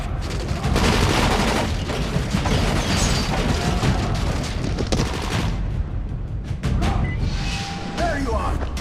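Gunfire and booming impacts in the zombie action game Dying Light, with dense, loud shooting and mechanical clatter throughout, mixed with game sounds and a brief voice near the end.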